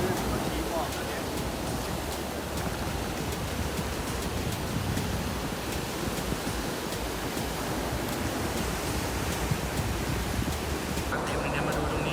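Sea waves wash onto a beach in a steady, moderately loud rush of surf that runs without pause, with a slight swell near the end.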